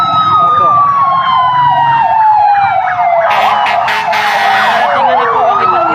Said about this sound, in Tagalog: Mga ambulansya, mga bumbero nagdadatingan na po